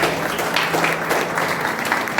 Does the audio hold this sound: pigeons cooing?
no